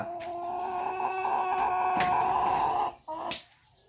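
Chickens clucking in a farmyard coop also holding goats, several birds calling close by in a busy overlapping run that stops abruptly near the end.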